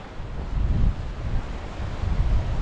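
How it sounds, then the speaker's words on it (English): Strong wind buffets the microphone on a rocky Cornish headland near Newquay Bay, a steady low roar with gusty surges throughout and no speech. "it's getting out of the wind that's a problem this week really"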